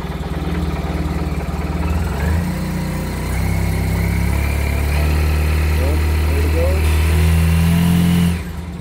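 A Suzuki Burgman 650 scooter with about 5,000 miles and a misfire runs steadily at close range, holding a low idle hum that rises briefly with a rev near the end, while someone talks over it.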